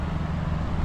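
Steady traffic roars past on a highway near Pune as someone crosses it, a continuous low rumble of engines and tyres with no voices.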